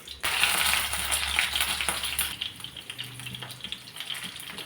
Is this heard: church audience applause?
no